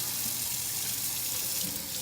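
Water pours from a kitchen tap onto pieces of salt pork as they are rinsed in the sink, a steady close splashing rush without pause.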